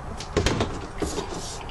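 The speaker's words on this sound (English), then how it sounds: "turn off the light in the bathroom and close the door" A bathroom door in a 1969 Land Commander travel trailer swings shut, giving a quick cluster of close, moderately loud knocks and a clack, then a softer thump a half second later, over a steady low background hum.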